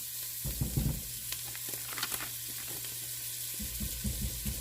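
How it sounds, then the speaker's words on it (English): Chopped onion sizzles in a hot pan for Southern collard greens, a loud steady frying hiss with a few stirring scrapes and clatters, with no talking. "I'm going to let that onion saute for just a minute or two once it softens."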